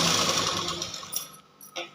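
A sewing machine stitches a princess-cut lehenga blouse, a close whirring run that fades and stops after about a second, followed by a faint handling sound.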